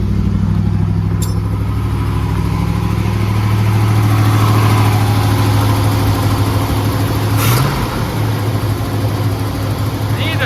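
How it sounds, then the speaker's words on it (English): A 1978 Chevy C30 dually truck, a barn find parked for 29 years, idling steadily after a restart, a loud, close, even engine rumble that continues throughout with a brief rise in pitch partway through. "let it idle, see what's going to do. All right. Will it restart still? Yes, it will."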